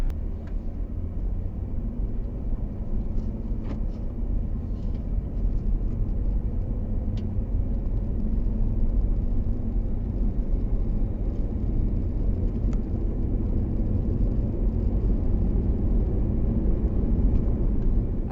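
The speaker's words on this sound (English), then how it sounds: "we're going to go ahead and go on a short drive" A car on a short drive gives a steady, low road rumble and engine hum from inside the cabin, fairly quiet and unbroken throughout, with no one talking.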